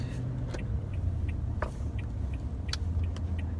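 Work trucks rumble past on a road near a roadblock, a steady low engine drone with scattered clicks and knocks, heard up close with no talking.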